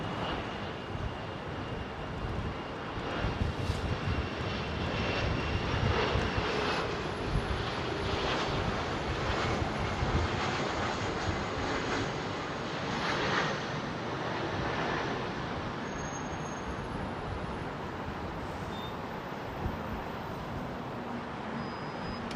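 A jet airliner approaching to land at Heathrow, its engine roar swelling and fading with the long steady rush of airflow, heard from outdoors at a distance, alone without voices.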